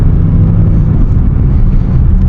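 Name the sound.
Maserati Ghibli engine revving with original exhaust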